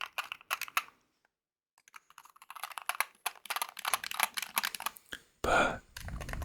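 Typing on a Wooting 60HE computer keyboard, close and quiet, with irregular bursts of crisp key clicks separated by pauses and ending in a short, louder clatter.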